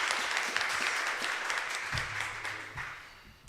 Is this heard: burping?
no